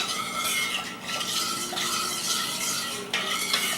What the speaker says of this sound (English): So I'm going to continue stirring this.